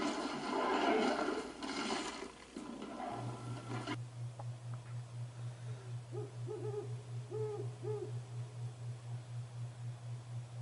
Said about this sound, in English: you can hear that owl hooting away